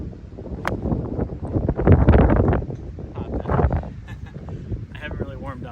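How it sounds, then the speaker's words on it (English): Gusting wind buffets the microphone on a golf course fairway, swelling and fading in loud low rumbles, with a person speaking at times underneath. "It's a bit windy."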